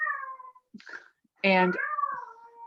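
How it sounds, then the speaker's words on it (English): A house cat meows several times up close, with drawn-out, wavering cries and a short pause between them. "sorry, that's my cat."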